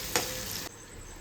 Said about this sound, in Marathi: नमक घातल्यामुळे टोमॅटो पटकन शिजून जातील.